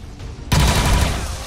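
A single gunshot in XCOM 2 opens with a loud, close blast that rolls into a dense rumbling wash of fire and impact lasting the rest of the moment.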